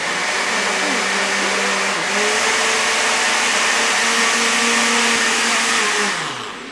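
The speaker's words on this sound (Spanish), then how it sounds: "en un vaso americano o una batidora de mano y lo vamos a batir bien" Hand blender whirring steadily as it purees soaked oats with water, vanilla and a pinch of salt for homemade oat milk, a loud continuous motor drone with small pitch shifts that winds down at the end.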